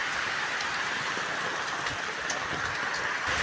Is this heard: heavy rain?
yes